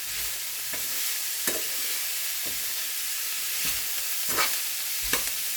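Millet flour dosa batter is stirred over a steady hiss, with a spoon scraping at irregular intervals, close and moderately loud with no voices.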